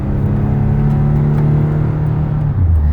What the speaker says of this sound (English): I'm going to give it some gas so you can hear the engine run and the transmission shift through all the gears.